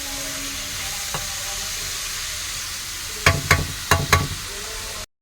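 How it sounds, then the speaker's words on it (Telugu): Onions frying in a pan for a potato and egg curry, a steady broadband sizzle throughout with a few sharp clattering stirs or scrapes near the end. "ఉల్లిపాయలు వేగిపోయినాయి"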